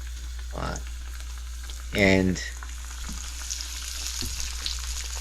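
Eggplant frying in a cheap, not very non-stick pot on an off-grid outdoor setup in Milolii, Hawaii: a steady sizzle throughout, with a louder burst of crackling near the middle and brief clatters, and a voice speaking briefly.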